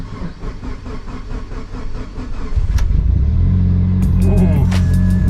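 A Subaru STI car engine cranks and catches partway through, then settles into a loud, steady rumble, with a few high clicks or squeaks near the end.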